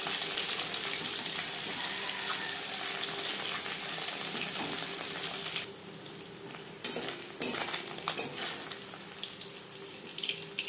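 Small puti fish sizzle in hot oil in a pan, a continuous close crackling hiss that eases midway, then a few sharp clatters and bursts of spatter.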